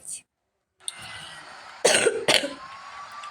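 A driver with a bad cough coughs twice close to the microphone, two short harsh bursts over a faint steady background hum.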